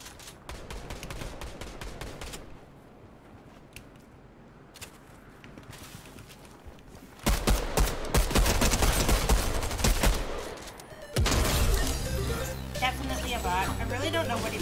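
Bursts of automatic gunfire in a Fortnite-style battle royale duos match, loud rapid volleys arriving in two heavy stretches in the second half after quieter game ambience.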